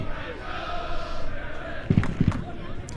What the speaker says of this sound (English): You can hear the cheering there from the great supporters group here at Maryland, the crew.